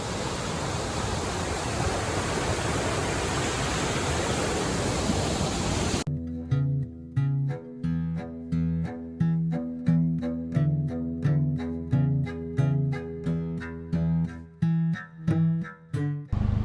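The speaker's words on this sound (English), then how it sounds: "look at this water just rushing through this rapid right here" Steady broadband rush of fast-flowing river water through rapids above Lake McDonald in Glacier National Park for several seconds, then cut off and replaced by a rhythmic series of tonal pulses.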